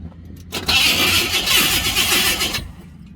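A 1976 Corvette engine is cranked over on its starter without the key, a loud, continuous whirring grind that starts abruptly, runs steadily for about two seconds, then cuts off.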